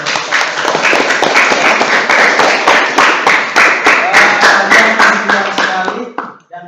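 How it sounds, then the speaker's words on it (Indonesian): A classroom of students claps together in a lively, even round of applause lasting several seconds before tapering off, with some voices mixed in at the end. "Tepuk tangan dulu dong."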